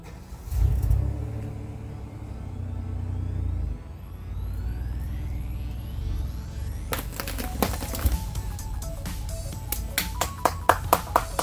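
A car engine revving and straining while tied by a line to yank out a stubborn tree stump; a deep rumble builds, then sharp cracking snaps and knocks break out over the running motor.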